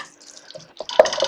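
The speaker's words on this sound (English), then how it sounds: "I'm going to add all of the stock, so 60 mils of vegetable stock there" About 60 ml of vegetable stock is poured into a cooking pan. After a quiet start, a short, bright splash and trickle of liquid comes in the last half second.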